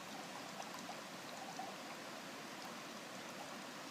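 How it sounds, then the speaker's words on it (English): Water pours and trickles steadily from the tipped snout of a minnow trap into a stream, a continuous soft splashing flow that stays even and close throughout with no talking. "I just put my finger over the snout and I tip it like this and let water run out"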